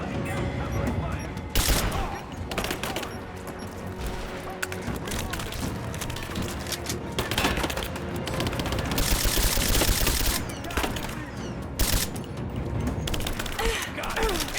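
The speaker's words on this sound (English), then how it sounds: "Laying down covering fire!" Sustained automatic gunfire from a firefight in the video game Rise of the Tomb Raider, with dense rapid bursts and heavier volleys running throughout, mixed with shouted combat voices.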